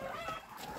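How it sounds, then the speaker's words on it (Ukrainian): Chickens clucking in a farmyard during a commotion, several birds making short overlapping clucks close by, fairly steady and moderately loud throughout the brief moment. "Кури вийшли."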